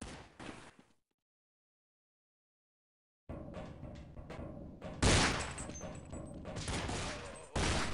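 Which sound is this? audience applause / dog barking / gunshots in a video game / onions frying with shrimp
gunshots in a video game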